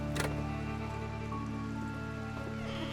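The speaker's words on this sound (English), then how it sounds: "I love that they decided to have the storm going in the back" Steady rain and storm ambience in a haunted-house video game, a continuous wash of falling rain with a faint hum underneath, heard alone with no talking.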